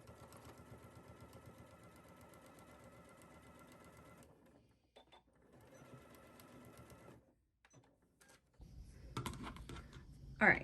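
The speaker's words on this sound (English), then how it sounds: "we are going to edge stitch along this placket here on our machine" A home sewing machine edge stitches along a placket on a caftan, running in steady bursts of fine rapid stitching with short pauses between, fairly close and moderately loud, ending in a brief louder clatter.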